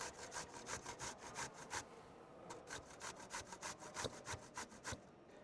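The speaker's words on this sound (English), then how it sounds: "Take a box grater, I'll just trim off the ends. And we'll just grate that zucchini in." Zucchini grated on a metal box grater with a fast, steady run of rasping strokes, close and fairly soft, pausing briefly midway before the scraping resumes.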